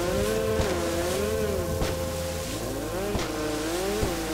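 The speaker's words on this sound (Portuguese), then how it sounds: "esse jet ski aqui acelera muito" Jet ski engine in GTA 5 revving and accelerating, a continuous loud motor whine rising and falling in pitch with brief surges, near and without talk.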